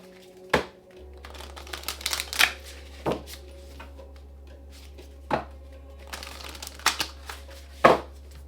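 Tarot cards are shuffled by hand up close, in an irregular run of sharp riffles and soft slaps over a low, steady hum.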